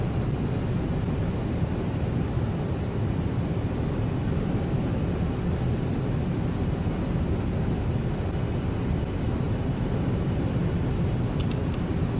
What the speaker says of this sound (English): Plane departing right there.